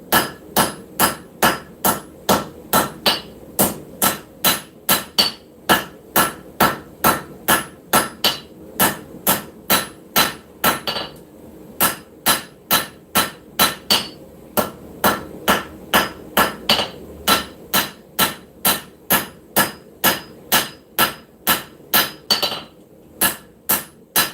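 Steady rapid hammer blows flattening a hot steel preform on the spine at a forge, dozens of sharp ringing strikes in an even rhythm, loud and close, with a couple of brief pauses.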